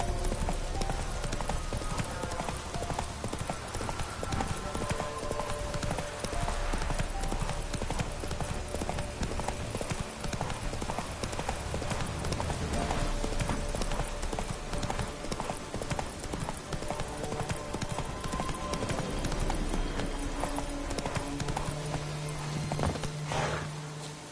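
Roach, Geralt's horse in The Witcher 3, clip-clops steadily at a walk, hooves close and continuous, with an occasional snort or whinny and brief talk over the top.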